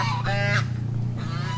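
Turkeys and ducks on a cacao plantation give loud, close honking calls, two distinct bursts over a steady low background drone, with no talk during the calls.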